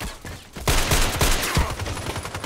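Rapid sniper rifle shots from a DT SRS in the Contract Wars shooter game, about four sharp, loud cracks fired in quick succession over steady background game noise, with no talking.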